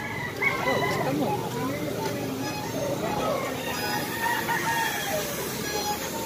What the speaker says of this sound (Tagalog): Mga binibintang panabong na manok.